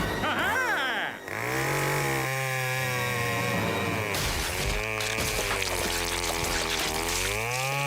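Cartoon chainsaw kill in Family Guy, with Peter Griffin wielding a chainsaw; a revving, snarling saw engine rises and falls continuously, mixed with music and cartoon effects.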